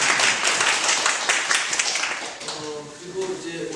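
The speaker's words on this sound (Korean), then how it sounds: "박수 한번 드립니다." Audience applause at a 2015 residency arts event at Seogyo Art Experiment Center in Seoul, a dense, sustained clapping from a crowd filling the room, with a voice briefly audible underneath.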